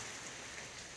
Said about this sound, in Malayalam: ഇപ്പോഴും മഴ പെയ്തുകൊണ്ടിരിക്കുകയാണ്